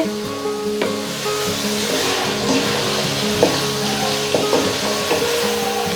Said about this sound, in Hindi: नमक डालकर हम चिकन को अच्छी तरह से फ्राई करेंगे।